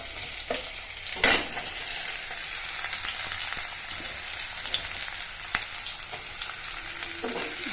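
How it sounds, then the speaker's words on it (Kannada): Sliced onions sizzle steadily in hot oil in a pan, with a few sharp scraping clicks of a spoon stirring, close and alone without talk. "ಈಗ ಈರುಳ್ಳಿ ಹಾಕ್ತಾಯಿದ್ದೀನಿ"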